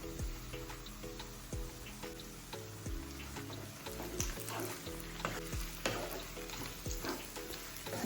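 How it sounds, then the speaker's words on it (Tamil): Bamboo shoots and eggs fry in oil in a pan, a crackling sizzle mixed with stirring scrapes and sharp taps of a utensil against the pan that repeat irregularly, heard close up with nobody talking. "இப்போ பேம்பூவில் இருக்கிற தண்ணியெல்லாம் ட்ரை ஆகிட்டு நல்லா எண்ணெயிலே வேக ஆரம்பிச்சிருச்சு."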